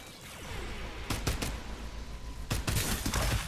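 Rapid bursts of Farlight 84 gunfire, a couple of quick volleys crackling over a constant busy game backdrop, loud and close.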